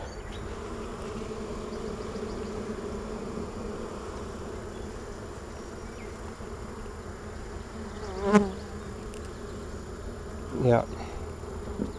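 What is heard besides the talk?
honeybees buzzing in hive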